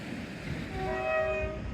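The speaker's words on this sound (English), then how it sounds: "we're going to have the Penzance to Edinburgh, hopefully, coming through in the opposite direction" A Penzance to Edinburgh train passes, sounding its horn with sustained tones over a rumbling rail background, brief and moderately close.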